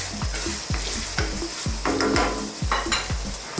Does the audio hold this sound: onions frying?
yes